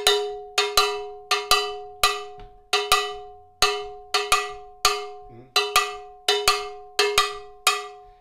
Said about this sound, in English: You can accent that by way even changing a little bit what you hear on the bell.